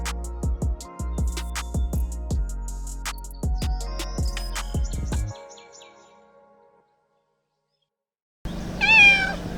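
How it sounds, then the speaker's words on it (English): A cat meows in Marrakech, Morocco, with a few clear, rising meows near the end after a silent gap, heard after a stretch of rhythmic clattering and tonal noise. "So there's a lot of cats here in Marrakech."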